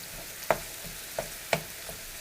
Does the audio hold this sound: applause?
no